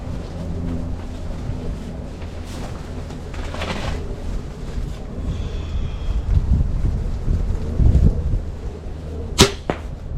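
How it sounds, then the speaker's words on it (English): Gusty wind of about 16 mph at a house outdoors buffets the microphone with an uneven low roar that swells midway, and a sharp snap stands out near the end. "Not to mention it is pretty windy at my house today."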